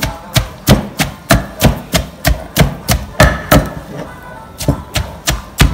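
Chili and ginger pounded together with yor (noni) in a mortar for a spicy Thai salad: a steady run of about sixteen loud, evenly spaced thuds from a pestle, each sharp and close.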